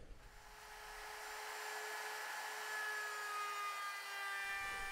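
A power tool cuts a plywood scarf joint on a Wave Rover scarfing jig, giving a steady, high-pitched whining drone that holds evenly for several seconds with no talking.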